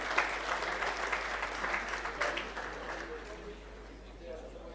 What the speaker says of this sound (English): I think we need one more big round of applause for the big celebration.